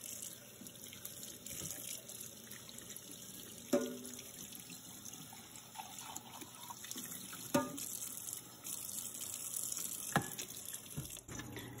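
Candle jar washed under a running kitchen tap with dish soap, a steady quiet stream of water with occasional clinks and splashes of glass being handled in the sink.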